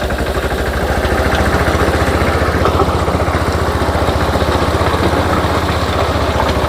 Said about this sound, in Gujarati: નાના ટ્રેક્ટરની અંદર આપણે 5 ફૂટનું રોટાવેટર ચલાવવું જોઈએ।